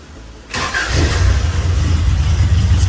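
A 1987 pickup truck's engine cranks and catches after a tune-up, then settles into a loud, close, steady rumbling idle.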